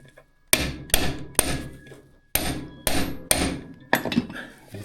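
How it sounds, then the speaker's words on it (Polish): Seven sharp, loud hammer blows ring out close up on a part of a Sokół 1000 motorcycle engine being taken apart, struck in an uneven rhythm with brief pauses between groups and no talking. "uderzysz młotkiem i on się przesuwa, wiesz, obraca się po prostu"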